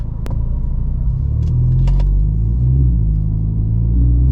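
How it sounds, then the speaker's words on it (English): A 2023 Mini Cooper S under full throttle, heard from inside as a loud, steady low engine rumble that holds and builds slightly through the clip, with a couple of brief clicks near the start. "when this light turns green, I'm gonna full throttle it"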